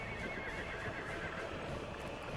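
A horse neighs in the city-building game Workers and Resources, a drawn-out whinny heard against a steady background hum of the game, with no speech over it.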